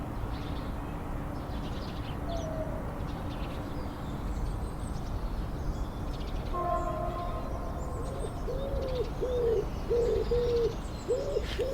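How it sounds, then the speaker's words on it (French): Wood pigeons give soft, repeated cooing phrases in the second half, with faint blackbird calls and other birdsong around a garden, over a constant outdoor background hum. "Les merles, les pigeons ramiers"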